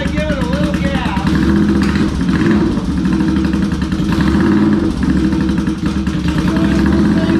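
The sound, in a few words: motorcycle engine starting and revving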